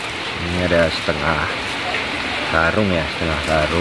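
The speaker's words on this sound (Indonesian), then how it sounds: "karena tadi hujan deras, ini lagi hujan" Heavy rain falls in a steady broadband hiss during a clove harvest, constant throughout while someone talks over it.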